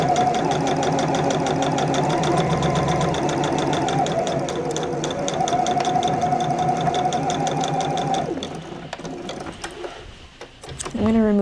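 A sewing machine stitches a dress seam in a long, steady, rapid mechanical run for about eight seconds, close and loud, before slowing and stopping with a few softer clunks at the end.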